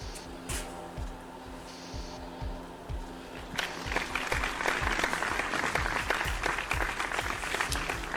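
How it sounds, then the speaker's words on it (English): A few people clapping indoors over a running heater; soft scattered sounds and a low rhythmic hum come first, then close, steady applause joins in partway through and carries on to the end. "Double applause for that."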